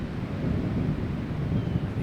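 Wind gusts across the microphone during an outdoor disc golf round at the Jonesboro Open, a low, buffeting rumble that swells and dips over a couple of seconds with no talk.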